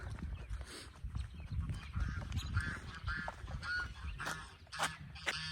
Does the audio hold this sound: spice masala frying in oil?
no